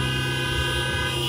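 Car horns honk from a drive-in outdoor worship service, blending into a sustained, loud chorus of overlapping toots with no speech.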